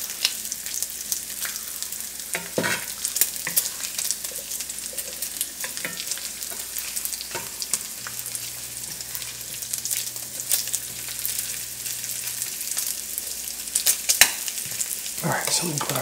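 Bacon and potatoes sizzle steadily in bacon grease, a constant close frying crackle broken by occasional scraping stirs.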